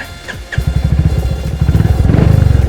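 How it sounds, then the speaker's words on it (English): A Hunter motorcycle with an aftermarket exhaust idles then revs with a deep, throaty burble, its rapid pulsing exhaust note growing louder and faster up close. "one of the most pleasant sounding aftermarket exhausts you're going to find for the Hunter"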